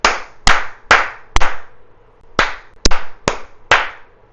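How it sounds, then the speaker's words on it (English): Eight sharp, close hand claps ring out alone in an irregular pattern, with four quick claps, a short pause, then four more, each crisp and followed by a brief decay. "I don't know if my claps aren't loud enough, but I'm hearing them."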